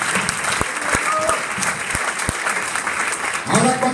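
A church congregation applauds during a Spanish-language sermon by a pastor, a dense wash of clapping with a few sharp thumps and a voice briefly rising near the end.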